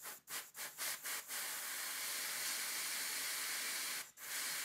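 Steady loud hiss of steam rushing out through a Stuart model steam engine's exhaust port, broken by several short puffs at the start and one brief gap near the end.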